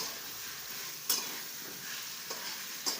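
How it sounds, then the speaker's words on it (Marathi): Eggplant sautés in hot oil for a home-style curry, a steady low sizzle with three brief stirring scrapes against the pan, close and faint, without speech. "दोन मिनटं अशी परतून घ्यायची चांगली तेलात वांगे"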